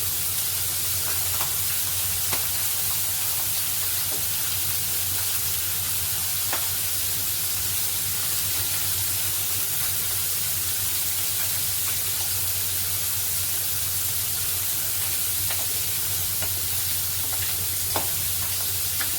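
Onions sizzle steadily in a hot pan for fish curry, a dense continuous frying hiss with occasional crackles and stirring, close and alone without talk.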